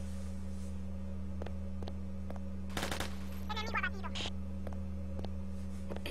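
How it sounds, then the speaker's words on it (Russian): A multiplayer shooter game plays short bursts of gunfire and a few sharp single shots over a constant electronic hum, with brief chirping game tones and players' voices in between. "Эля, ну стреляй, ну."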